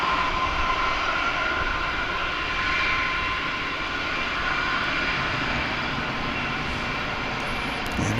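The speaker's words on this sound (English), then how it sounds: "It's an Embraer 175 coming in from Jackson, Mississippi." An Embraer 175 jet landing at DFW International Airport gives a continuous loud, broadband engine roar that holds steady throughout, with no voices over it.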